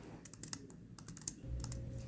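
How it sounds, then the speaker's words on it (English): Fast typing on a computer keyboard, a string of light, irregular clicks from a nearby desk with a low hum underneath, no one talking. "Oh, you're typing this out right now?"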